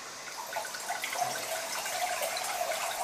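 Wine poured by butler trainees at an academy, a steady thin trickle of liquid into a glass with faint splashing, continuous and fairly quiet throughout.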